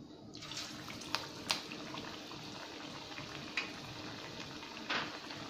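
Masala vada, lentil fritters, frying in hot oil: a steady close hiss and bubble of sizzling oil with a few sharper pops and crackles scattered through it, and no voices.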